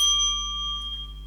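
Cow bell, sold along with the cow at a market in a children's retelling of Jack and the Beanstalk, gives a single bright ring that sustains and slowly fades over a steady low hum.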